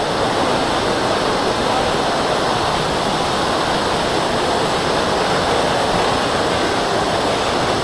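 A waterfall at Los Baños, Laguna, rushes loudly and steadily, a dense continuous roar of falling water close by, with no pauses or other sounds over it.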